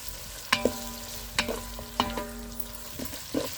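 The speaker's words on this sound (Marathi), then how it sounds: "ही कोल्हापुरी मसाला तेलात चांगला मिक्स करून असा घ्यायचा" Kolhapuri masala with red chilli powder and turmeric is stirred in hot oil, a soft sizzle under several distinct clinks and scrapes of a spoon against the pan.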